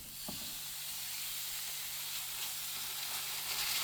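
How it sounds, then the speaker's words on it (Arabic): Chicken for shawarma sizzling in a very hot pan with olive oil, a steady crackling hiss with a brief knock near the start, quiet and close. "نسمع صوت اللدعة، صوت الشوي"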